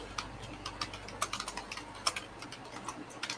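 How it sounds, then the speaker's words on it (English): Typing on a computer keyboard during a live stream: faint, irregular clicks and taps in quick bursts over a low background hiss, with no talking. "I'm typing a note in the chat here."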